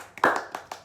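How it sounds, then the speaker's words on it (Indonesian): A small group in a school counseling session gives a quick burst of hand claps, a handful of sharp, close strikes within under a second before stopping. "Tepuk tangan untuk semua"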